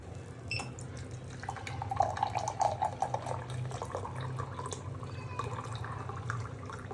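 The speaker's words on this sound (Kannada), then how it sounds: "ಸೊ ಈಗ ವಾಟರ್ ಫಿಲ್ ಮಾಡ್ಕೊಂಬಿಡೋಣ" Water running from a tap into a pot for boiling instant kimchi noodles, a steady close splashing stream with faint dripping, heard alone.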